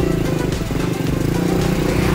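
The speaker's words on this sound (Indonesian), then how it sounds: "kita naik Bentor guys, becak motor ya kan" A motorcycle rickshaw (bentor) carries riders through Jogja at night, its engine a loud, close, steady chugging putter with constant rumble throughout.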